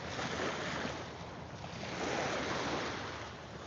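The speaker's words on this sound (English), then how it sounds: "just hear the waves coming in" Lake waves wash steadily onto a sandy beach at Mille Lacs Lake, Minnesota, a continuous close broadband surf swelling and easing with light wind noise and no voices.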